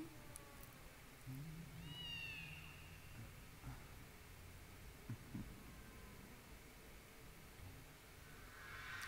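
A cat meows in the video game .Hack//GU Last Recode, a couple of faint rising-and-falling cries over a low, noisy game ambience, with no speech on top.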